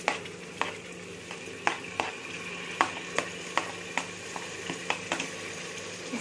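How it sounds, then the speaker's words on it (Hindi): Tomatoes frying with yogurt in a pan for mutton tahari, a steady soft sizzle broken by repeated sharp scrapes and taps of a stirring spoon roughly every half second, close up and with no talking. "अब हम इसमें डाल देंगे हमारे सारे टमाटे।"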